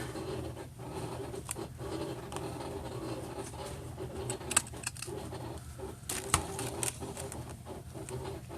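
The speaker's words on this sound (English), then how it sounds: "I'm going to take my popsicle opening pinking shears and I'm just going to kind of go right above that white and then I'm just going to trim" Pinking shears snip along the edge of a paper chip bag in a run of small, crisp, irregular cuts. A low hum sits underneath, and nobody speaks.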